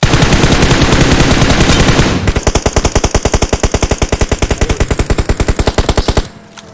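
Rapid automatic gunfire from a firefight in the mobile game PUBG Mobile, loud and sustained for about six seconds in dense bursts that shift to a steady, evenly spaced rattle before cutting off.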